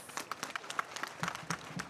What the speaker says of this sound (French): je veux que vous applaudissiez fortement votre fils